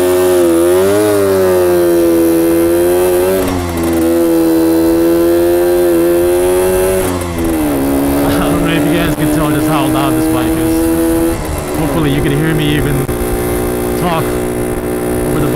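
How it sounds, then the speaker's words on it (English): A 1966 Suzuki K15 motorcycle engine revs hard from a standstill and pulls away at riding speed, its loud buzzing tone rising and shifting through gear changes with steady wind rush. "so you really gotta rev it out in first gear to get going from a standstill, but let's go for a quick spin."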